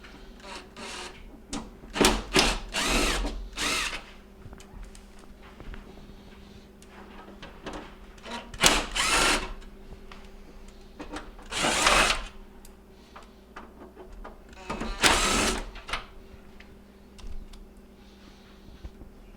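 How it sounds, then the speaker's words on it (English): A power drill backing out the screws across the top of a Whirlpool stove door during a broken handle repair: several short whirring bursts, with clicks and handling noises in between. "we're going to go ahead and take out the 4 screws across the top"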